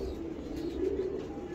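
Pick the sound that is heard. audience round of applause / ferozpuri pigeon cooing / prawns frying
ferozpuri pigeon cooing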